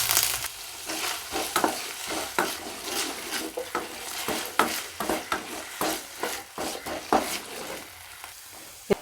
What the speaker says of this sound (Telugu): ఆయిల్ హీట్ అయ్యాక ఈ నల్లేరు వేసుకోవాలి